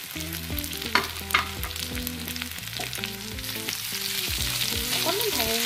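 Garlic, ginger and onion fry in a pan with a loud, continuous sizzle that builds slightly toward the end, over a low tonal hum, with a few soft knocks and no talking.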